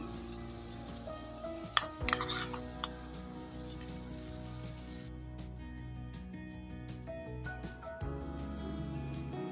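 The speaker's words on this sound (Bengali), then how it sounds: "এবার আমি টক দইটা দিয়ে দিচ্ছি আমি দু চামচ টক দই দিচ্ছি" Sour yogurt spooned into oil-separated masala sizzling in a pan for masala baingan, a steady loud frying hiss with a few clinks and stirring scrapes.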